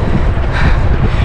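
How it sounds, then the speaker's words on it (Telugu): A strong headwind rushes against a cyclist riding a road in Japan, producing a loud, blustery roar and buffeting over a brief moment. "హెడ్ విండ్ బాగుంది, గాలి బాగా వస్తుంది."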